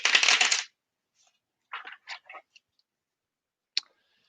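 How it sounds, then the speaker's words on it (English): Tarot cards are riffle shuffled in one quick, loud burst of flicking, followed by a few soft clicks and taps as the deck is squared, then near silence. "Not normally one for riffling when I'm live because I know that it's dead loud"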